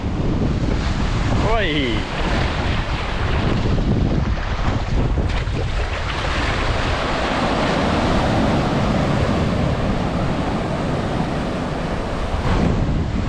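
Steady roaring wind buffets the microphone over sloshing waves and a fishing boat's hull off Rottnest Island, with a brief shout near the start.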